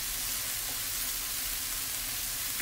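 Garlic frying in a pan for fish chile rellenos sizzles loudly and evenly throughout, a dense, close crackling hiss with no voices.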